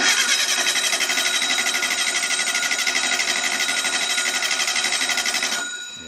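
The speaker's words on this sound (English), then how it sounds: "Let's just crank it with no spark first." An old VW engine is cranked over with no spark, a fast, even, mechanical whirring and chattering from the starter that runs steady and loud for several seconds before cutting off abruptly.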